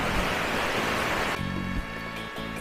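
Pa Wai waterfall in a national park in Tak province, Thailand, gives a steady, loud rushing roar of falling water that shifts slightly partway through, with no voices.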